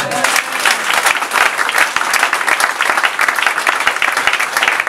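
A church congregation applauds and cheers for several seconds, a dense, loud wash of clapping with crowd voices mixed in, steady throughout.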